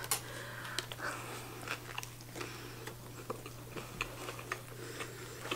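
Fast food being bitten and chewed close to the mic in quick, irregular crunchy bites, with a steady low electrical hum underneath and no talking.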